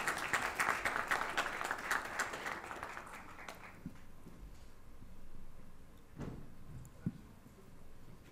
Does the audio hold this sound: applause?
yes